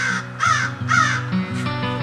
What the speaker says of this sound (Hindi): इसार कौआ केना माथ पर आबि के काँव करिए?